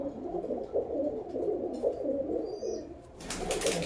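Male pigeons coo steadily in low, throaty bursts throughout, with a brief higher chirp and a burst of hissy noise near the end.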